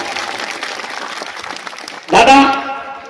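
A crowd at an outdoor political rally in Dhamangaon breaks into loud applause and cheering, a dense burst of clapping that swells after steady crowd noise and mixed talk.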